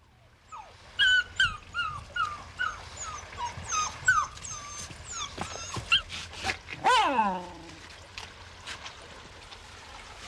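A dog at a mill house on an English country estate whimpers and yelps in repeated high whines that rise into a howl, over a faint background of running water.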